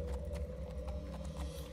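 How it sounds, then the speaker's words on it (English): Horse hooves clip-clop in a video game, a steady quick run of hoofbeats over a low rumbling background, heard close without talk. "Oh, it's a horse."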